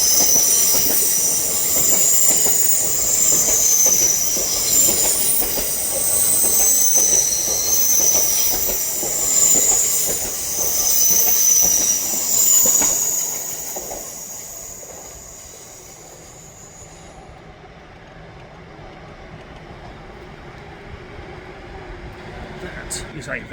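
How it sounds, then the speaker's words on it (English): An LNER Azuma train whooshes past at speed through Manors Station, a loud, close pass with hissing and wheel squeal that stays steady before fading quickly into quiet. "an LNER Azuma whooshing past you at Manors Station."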